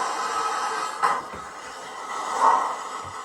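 A Hornby Black 5 model steam locomotive with an HM7000 sound decoder runs on a rolling road, giving a steady mechanical hum and whir with a couple of brief louder swells and no voices.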